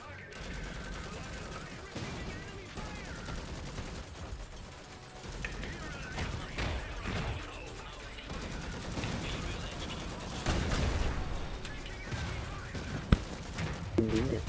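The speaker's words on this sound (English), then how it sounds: "Trying to shoot the dude." Gunfire in the video game Iron Harvest while shooting at an enemy, a dense, continuous spread of rattling shots and blasts with a few sharper cracks near the end.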